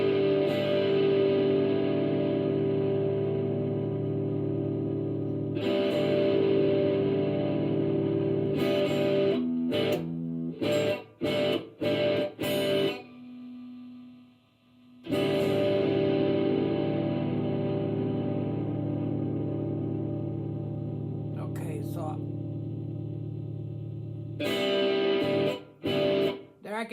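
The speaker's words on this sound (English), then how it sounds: "I can hear a little reverb." An electric guitar played through a diffuser reverb effect sustains long held chords that ring out, with short choppy strums and pauses between them, fairly quiet overall.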